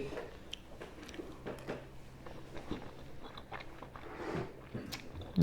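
Chewy fish balls, bought from a roadside curry-rice shop, being bitten and chewed close up, with soft repeated squishy mouth sounds through a quiet room and no talking.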